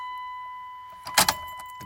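Ignition keys on a 2001 Cummins 24v truck jangle briefly in a short metallic burst of clinking after a moment of quiet, close and crisp against a faint steady electronic tone.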